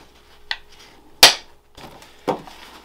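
A hammer drives nails into wood to countersink them, three sharp, separate strikes that are close and loud, the middle one the strongest.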